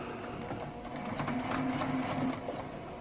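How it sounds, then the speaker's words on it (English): Sewing machine stitching a quarter-inch seam on quilt fabric, a steady close mechanical whir with rapid needle clicks that grows slightly louder midway, with no talking. "And so you just come over to your sewing machine,"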